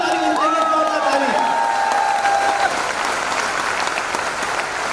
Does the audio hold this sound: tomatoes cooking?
no